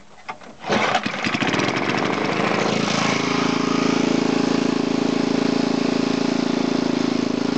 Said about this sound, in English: See how the engine fluctuates up and down when I move it there?